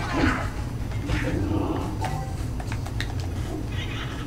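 A house cat meows a few times at close range, short plaintive calls that rise out of ongoing background noise.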